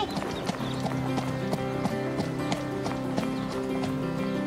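A horse cantering in an arena, hooves striking in a quick, regular clip-clop rhythm, close and distinct against a faint background.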